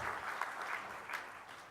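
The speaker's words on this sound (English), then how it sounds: "a huge round of applause for Mr. Chandrasekaran" Brief, moderately loud applause from the audience at a corporate leadership award ceremony following an address, a dense patter of clapping that fades slightly over its short span.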